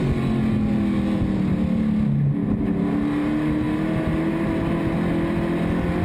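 Hobby stock race cars roar around an oval track at Mission Valley Super Oval, engines loud and sustained with shifting pitch as the pack runs close together.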